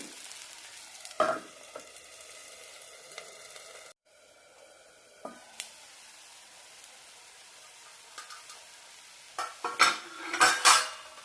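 A thick moong bean dosa cooks in a covered pan with a steady faint sizzle. Sharp metallic clinks of lid and utensil break in, and a busier burst of scraping and clatter comes near the end. No one speaks.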